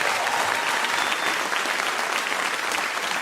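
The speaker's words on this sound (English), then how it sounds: "I say that not to get that applause, although thank you for it" Theater audience at a stand-up comedy show breaking into loud, sustained applause, dense clapping from a large crowd with no talking.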